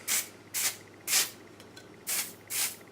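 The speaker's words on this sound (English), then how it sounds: "It's shooting from the side, like it's not coming out properly, and it just like spits and fizzes." A Laid Back Defrizz and Anti-Static spray bottle that misfires from the side, giving five short, close hissing bursts, each spitting and fizzing, at roughly half-second intervals with quiet gaps between.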